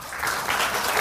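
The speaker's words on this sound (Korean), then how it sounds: "여러분 박수 한번 부탁드립니다." An audience at the Korea Startup Forum launch ceremony claps steadily, a dense, lively round of applause heard up close throughout.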